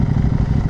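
Engine of a 2023 CFMOTO 800MT touring motorcycle idling close by, a loud, steady low throb with rapid rhythmic pulses.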